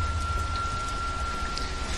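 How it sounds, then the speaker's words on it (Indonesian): Steady rain falls outdoors near a large half-built house at night, a continuous even hiss of drops with no voices. "Hujan."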